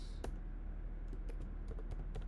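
Code is typed on a computer keyboard in short, irregular bursts of crisp keystrokes, fairly quiet and close, with no talking.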